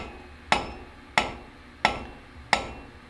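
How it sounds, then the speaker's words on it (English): Four sharp metallic hammer blows knock out a wheel bearing on a 1999-2007 2WD Silverado/Sierra, striking in a steady rhythm, each ringing briefly before the next, close by with no talking. "you can see how this pops straight out with a hammer"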